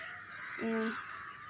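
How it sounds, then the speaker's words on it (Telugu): A single crow caws once, clear and fairly close, over a steady background hiss, in the early morning around 5:40. "ఐ హోప్ మీకు వినిపిస్తూనే ఉంది బర్డ్స్ సౌండ్స్ అంతా"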